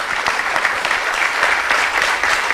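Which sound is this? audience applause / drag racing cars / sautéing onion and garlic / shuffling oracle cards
audience applause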